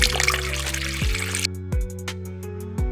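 Half a cup of water is poured into a bowl of corn flour to make batter for Chicken 65, a short splashing pour that stops abruptly, followed by a few light clinks and knocks.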